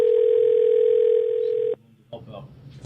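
A telephone dial tone sounds while someone calls into a policy committee meeting, a loud, steady unbroken tone holding for nearly two seconds before cutting off abruptly, followed by faint room noise and low murmuring.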